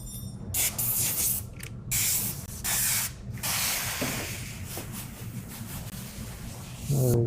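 Water spraying beneath vinyl wrap film as it is lifted and laid back down on a car during a live wrap demonstration, a steady close hiss in several bursts with brief pauses.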